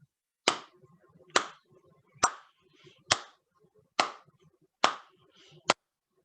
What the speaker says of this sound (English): Okay, let's try another clap.